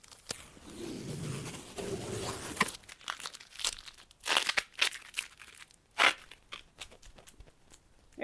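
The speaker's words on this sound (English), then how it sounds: "I guess I'm peeling everything off." Paint masking tape and paper are peeled off a car after spray painting racing stripes, giving crinkling and tearing rips in bursts, close by, with no voices.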